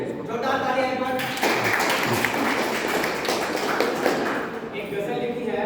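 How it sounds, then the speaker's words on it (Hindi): An audience at a Hindi stage play breaks into loud, sustained clapping, joined by a few cheers, after a performer is announced, fading out after several seconds; a voice is heard briefly at the start. "हरिहर, जोरदार तालियां एक बार।"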